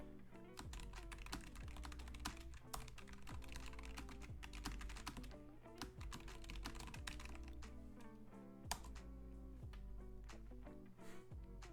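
Computer keyboard typing for taking notes clatters steadily and densely, with rapid close keystrokes that run continuously and no one speaking.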